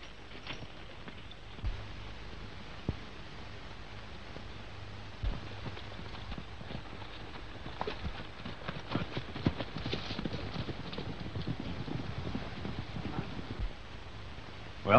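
Horses trot along at a steady clip-clop in a 1936 Western range film, hoofbeats moderately near and fairly quiet, with no talk over them.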